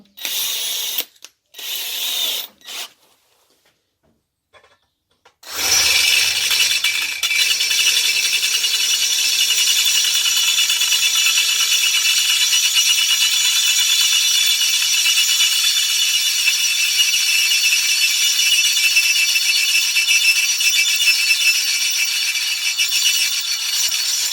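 A few sharp clicks and handling knocks come first, then a brand-new original drill bit bores into stainless steel with a loud, steady, hissing grind that continues without a break.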